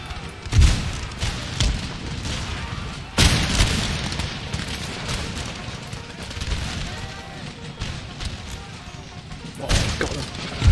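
Mortar shells explode in the Empire Total War video game, with loud booming blasts spaced a few seconds apart over a dense din of battle, musket fire and crashing impacts. A voice talks faintly underneath.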